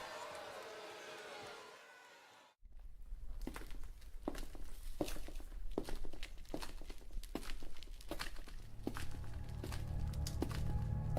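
Heavy footsteps in the WWE 2K25 wrestling video game fall in a steady, evenly spaced rhythm, loud and close, over a busy arena crowd with some talk mixed in.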